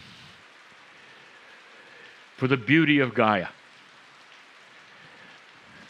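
Steady rain falls throughout with an even, soft patter, while a voice speaks briefly in the middle over the constant wash of drops.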